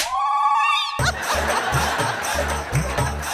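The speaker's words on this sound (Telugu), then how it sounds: "అక్కడ ఫోన్ వస్తుంది సార్" A melodic electronic phone ringtone plays for about a second, then cuts abruptly to lively chatter and laughter.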